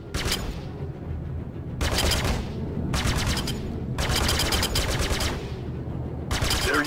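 Bursts of rapid automatic weapon fire from a video game combat tutorial repeat about five times, each loud volley separated by short gaps, with no talk.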